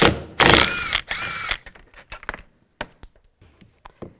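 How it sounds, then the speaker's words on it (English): A ratchet fitted with a 10mm socket works a bolt loose from a 2007-2013 Chevrolet Silverado interior door, giving a few loud bursts of rapid clicking followed by scattered quieter ticks and taps up close. "Now take this bolt out. Use a 10mm socket."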